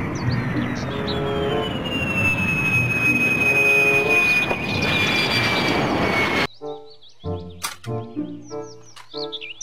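Toy fighter jet giving off a sustained electronic jet whine with a falling tone over a noisy hiss for several seconds, then cutting to short beeping toy sound effects.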